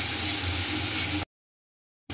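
Spice paste with ground turmeric frying in a pan, giving a steady, close hiss and sizzle for over a second before cutting to silence and briefly returning.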